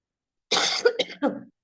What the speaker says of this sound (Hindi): मुझे थोड़ी खांसी भी है